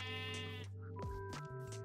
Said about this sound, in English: with all of our little sheep.